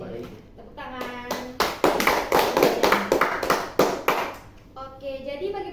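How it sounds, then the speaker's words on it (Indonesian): A group claps in applause, a dense burst of hand claps that swells and then fades, with voices speaking in Indonesian before and after, during a school group guidance session. "Tepuk tangan."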